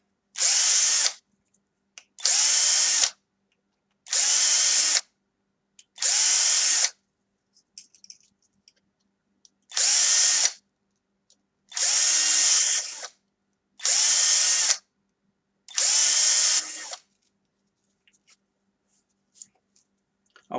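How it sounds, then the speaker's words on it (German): A small power drill with a 3 mm bit reams out holes in a 3D-printed part, whirring in eight short bursts of one to two seconds each, separated by quiet pauses, close and loud. "bohre ich hier einmal mit einem Dreierbohrer"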